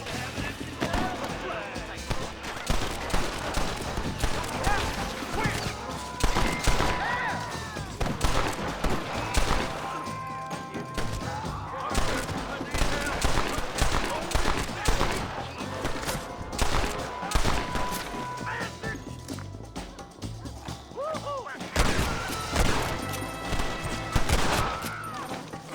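Gunfire aimed at the player during a Red Dead Redemption shootout at a house, rapid shots crackling continuously over a busy mix of game sounds, with someone talking throughout.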